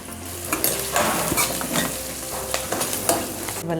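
Spices and ground seeds are stirred into a chutney with a spoon, giving quick scraping and clinking strokes against the pan or bowl, moderately close, with no voices.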